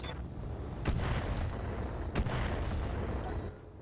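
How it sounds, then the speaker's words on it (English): Guided missiles launching in the RogueTech mech combat game, two sharp bursts of fire about a second apart over a steady rumbling battle ambience, with faint beeping tones scattered in between. "I think we fire guided missiles on this lad."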